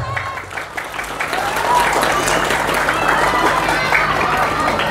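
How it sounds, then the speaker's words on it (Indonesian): A crowd breaks into sustained applause that swells after a moment and holds steady as a dense wash of clapping. "Maka tepuk tangan untuk pondok pesantren semuanya"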